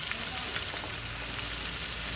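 Chicken kadai masala frying in a pan, a soft, steady crackling sizzle with small scattered pops, fairly quiet and continuous with no talk over it.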